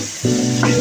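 Chowmein sizzles and fries in a wok with chilli powder added, a loud close hiss with a stirring scrape.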